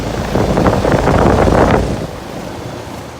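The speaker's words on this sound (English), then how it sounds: "Yeah, that fan's running in reverse." A 2007 Rheem Classic 3-ton heat pump in heat mode with its original GE fan motor running in reverse gives a steady broadband whooshing roar that swells for a couple of seconds, then drops to a quieter hum.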